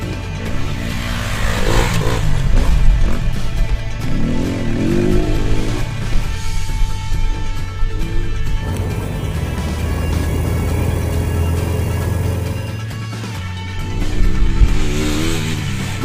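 SWM RS 300R motorcycle from 2016 with its engine running and revving, a steady mid-pitched drone rising and falling for about sixteen seconds, heard close and fairly loud with no talk.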